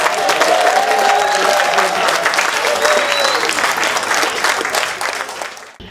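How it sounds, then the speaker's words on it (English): Loud, sustained crowd applause and cheering with a few whistles at a 90th birthday party, continuing strongly for several seconds before fading at the end. "Cheers, applause, whistle."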